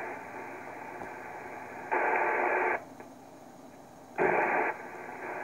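A uBITX ham radio receiver tuned to a quiet band gives a steady low hiss of static, broken by two louder bursts of rushing noise lasting under a second each.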